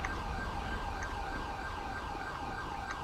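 A fire engine siren wails in a video game, a steady, continuous tone held close and loud for the whole span, with no speech.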